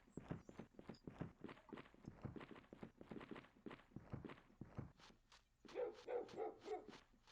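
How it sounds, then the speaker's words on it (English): A dog in the video game Aidyn Chronicles barks again and again in a steady rhythm alongside footstep-like thuds, close and fairly quiet, with no talk over it. "Shut up, dog."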